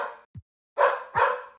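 A pet dog named Fern, being dog-sat at home and startled by a bang, gives three sharp barks close by: one short yip, then two loud full barks in quick succession.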